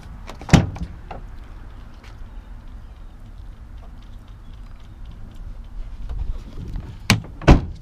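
Tailgate of a 2019 Ram 1500 Big Horn crew cab pickup with a Rocky Ridge K2 package opened and shut, a sharp clunk early, quiet handling, then two solid latching thuds near the end.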